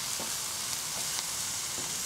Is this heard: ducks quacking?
no